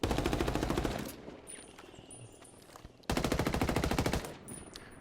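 Two bursts of rapid full-auto F2000 rifle fire in Ghost Recon Wildlands, each about a second long, separated by a quieter stretch with faint mechanical clicks.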